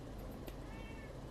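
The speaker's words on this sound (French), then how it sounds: "je sais pas si vous avez entendu miauler" A pet cat meows faintly at a French home, where it sits perched on a printer; one short cry over a dense, steady background hum, with no talk.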